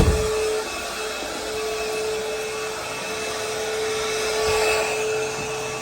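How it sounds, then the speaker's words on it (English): A vacuum cleaner runs close by and loud during a deep clean of a sporting facility, a steady roaring drone with a constant whine that holds for the whole stretch. "I'm about to pass right by the vacuum, and it's going to be incredibly loud"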